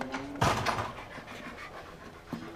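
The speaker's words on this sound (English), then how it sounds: "Watch out, that mad dog's loose." A loose, aggressive dog pants in quick, breathy bursts close by, with a sharper thump early on and quieter panting continuing after, no talk over it.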